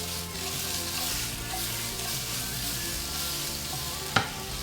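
Shrimp frying in a hot pan give a loud, steady sizzle throughout, with a single sharp utensil clank near the end.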